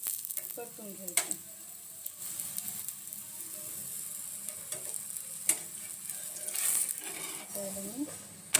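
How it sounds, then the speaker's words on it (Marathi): Pumpkin paratha (kadu dhapata) fries in oil on a flat tava with a soft, continuous sizzle. Sharp clicks and scrapes from handling the bread cut in now and then, and a faint voice murmurs in the background. "एका बाजूनं तेल टाकून याला पराठ्याला मस्तपैकी परतून घ्यायचं"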